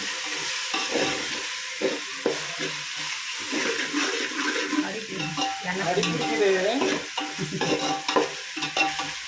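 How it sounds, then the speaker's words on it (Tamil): Biryani masala cooked in oil in a big pot for an anda biryani, with a sizzling fry under repeated scraping stirs of a ladle against the metal pot, running steadily throughout without speech. "எண்ணெய் கம்மியாக இருக்கு, அடி பிடிக்குது."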